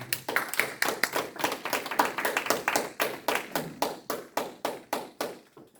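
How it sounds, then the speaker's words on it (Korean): An audience at a church event for a 60th graduation anniversary claps in welcome, a close run of rhythmic clapping that starts dense and thins into a few slower, separate claps before fading out. "여러분 박수 환영합니다"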